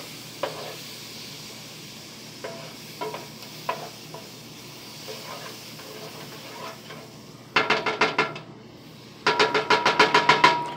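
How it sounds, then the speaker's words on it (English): Butter melting in a pot for a simple stovetop rice dish, with faint scattered ticks at first, then two loud bursts of dense crackling sizzle near the end. "Melt the butter."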